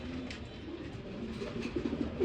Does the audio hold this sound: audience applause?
no